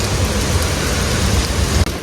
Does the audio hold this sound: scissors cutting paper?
no